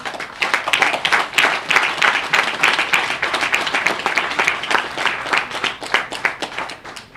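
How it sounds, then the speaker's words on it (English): Applause from a modest audience at a health and wellness centre opening, with distinct individual claps forming a steady, moderately loud patter for several seconds. "let's give her a round of applause"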